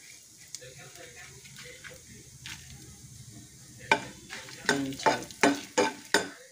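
Dried red chilies and coriander seeds fry in a pan for a mango pickle, a steady low sizzle broken by sharp, close stirring scrapes that come in a quick rhythmic run toward the end.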